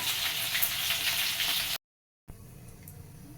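Tilapia fish frying in hot oil gives a dense, steady sizzle that cuts out abruptly to silence for a moment, then resumes more quietly.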